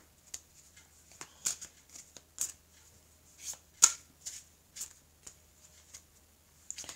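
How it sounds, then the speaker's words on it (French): Tarot cards being shuffled by hand: soft, crisp flicks and riffles in irregular bursts with quiet gaps between them, close and faint. "je vais mélanger les cartes"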